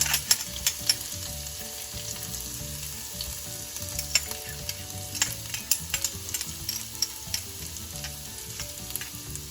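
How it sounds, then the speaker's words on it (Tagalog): Garlic sizzles steadily in hot oil in a pan, bound for a sautéed blue crab dish, with sharp scraping stirs and utensil clicks breaking through the crackle, close up and with no talking. "gagamit muna tayo ng oil para iluto yung ating garlic"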